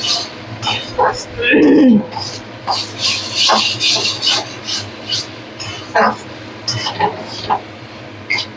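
Spice paste for a Bengali-style crab curry frying and being scraped and stirred in a pan, with rasping strokes and soft sizzling under a voice talking throughout.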